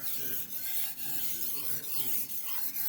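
Knife edge polished on a 4000 grit sharpening stone: soft, even rasping strokes repeat in a steady rhythm, close and fairly quiet, with no talk.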